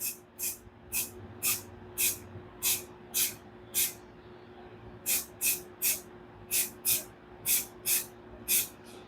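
Short bursts of aerosol spray paint hiss as it is sprayed onto a painting tool, about sixteen quick sprays in uneven clusters, close and crisp, with a low hum in the background.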